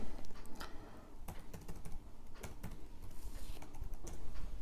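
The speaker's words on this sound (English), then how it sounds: "I don't think you guys can see my password being typed" A password being typed on a computer keyboard: quick, light keystrokes clicking irregularly, fairly close and fairly quiet.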